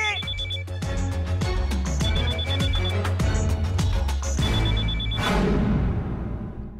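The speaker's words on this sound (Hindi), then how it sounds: "राजू को बोल फोन उठा।" Telephone ringing in a comedy film scene: a loud bell tone repeating in regular bursts for several seconds, alone with no voices over it.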